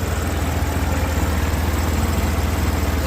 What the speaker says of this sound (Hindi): ऐसा लग रहा है कि साइलेंसर का जो गास्केट है वो फट गया है।